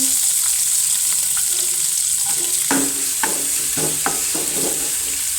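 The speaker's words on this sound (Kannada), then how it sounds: "ಎಣ್ಣೆ ಸ್ವಲ್ಪ ಬಿಸಿ ಬಿಸಿ ಆಗ್ತಾ ಇದ್ದ ಹಾಗೆ ನಾನು ಮೆಣಸಿನಕಾಯಿಯನ್ನು ಹಾಕ್ತಾ ಇದ್ದೀನಿ" Green chillies frying in hot oil in a pan, a continuous loud sizzle and crackle with occasional stirring clinks and scrapes over it.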